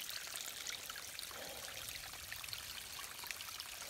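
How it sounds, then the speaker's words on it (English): Water from a mountain stream on the Appalachian Trail being collected while hiking: a steady, close rush and trickle of flowing water that continues evenly throughout, with no voices. "All right, gonna fill up on water."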